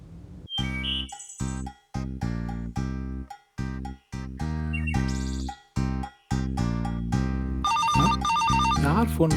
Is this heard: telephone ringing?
yes